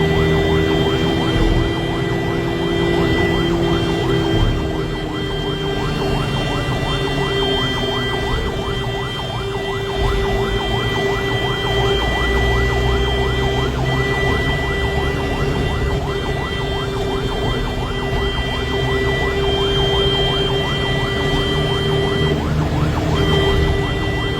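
An ambulance siren wails continuously as the vehicle carries a child to hospital on a road in Kannur, loud and close with steady traffic rumble underneath for the whole stretch.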